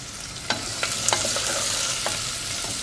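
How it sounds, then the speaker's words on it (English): Onion and garlic fry in a pan with a steady broadband sizzle, punctuated by several sharp scrapes and clinks of a utensil stirring, close and moderately loud with no talking. "So the onion and the garlic are nearly done."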